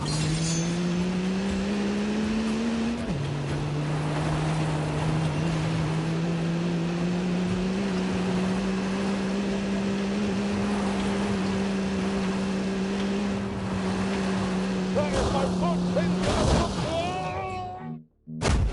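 Simulated car engine from The Grand Tour racing video game on PS4, a loud steady droning hum that holds its pitch, dips once early, then revs and cuts out near the end.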